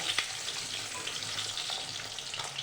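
Steady crackling sizzle of eggs coated in salt and turmeric frying in hot oil, close and continuous, with a few sharper pops near the start.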